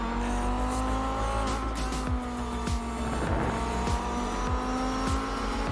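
Race cars cornering through a long right-hand bend onto the straight at a Molecule Australia round, steady loud engine drone with several passing cars sweeping by in quick succession, tyres squealing.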